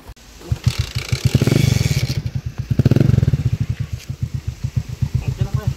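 A rented motorcycle's engine putters with a rapid, steady pulsing rhythm, rising briefly as if revved, with voices talking over it, during a beach camping trip in Lobo, Batangas, Philippines.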